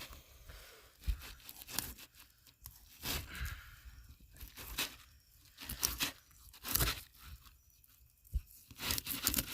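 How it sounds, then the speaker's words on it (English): Knife cutting a fillet from a freshly caught fish at a campsite, without a proper fillet knife; a series of close, soft tearing and crunching strokes in irregular bursts against quiet surroundings. "And then you just start cutting away."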